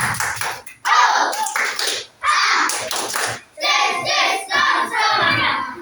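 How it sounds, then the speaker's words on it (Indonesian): Schoolchildren in a classroom perform a rhythmic 'tepuk semangat' group clap, crisp bursts of patterned clapping and chanting in loud sections separated by short pauses, close and energetic. "Tepuk semangat."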